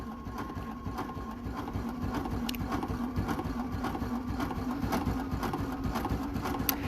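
A Bernina Q16 longarm quilting machine stitches at a steady pace, its motor humming under a fast, even, close mechanical chatter of needle strokes with no pauses.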